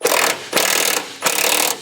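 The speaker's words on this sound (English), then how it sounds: "So we're going to go ahead and remove those bolts." Ratchet wrench turning out 15mm fuel tank strap bolts on a 2014 Chevrolet Silverado, three bursts of fast close clicking separated by short pauses.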